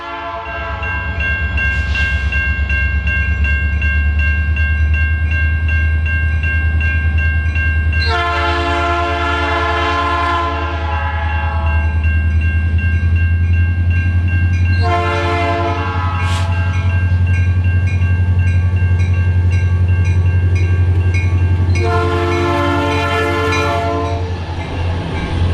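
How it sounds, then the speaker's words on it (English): A Norfolk Southern freight train pulling two loaded hoppers departs toward Chelsea, its loud horn sounding in three long blasts over a constant deep diesel engine rumble, close by and with no talk. "we watched the train depart for Chelsea with 2 loaded hoppers in tow"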